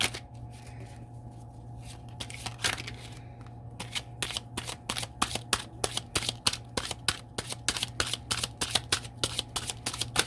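Tarot cards are shuffled and drawn close by, with rapid crisp riffling and flicking that builds into dense, quick bursts of card snaps over a faint steady hum.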